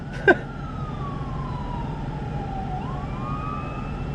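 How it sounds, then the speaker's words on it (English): An ambulance siren wails with a long falling sweep, then rises again, fairly faint over steady low traffic rumble, heard from inside a 2019 Ford Mustang GT, with a brief knock near the start. "Oh, there's an ambulance and there's a car in front of it that did not move."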